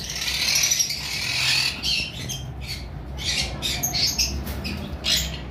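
Caged lovebirds, including lutino red-head and parblue mutations, let out loud, shrill squawks and chatter in repeated bursts close by, over a low background hum.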